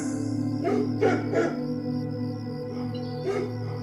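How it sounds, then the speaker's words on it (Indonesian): Several short, muffled dog barks and yips in quick bursts over a steady low hum, fairly close. "anjing peliharaanku mendadak menggonggong"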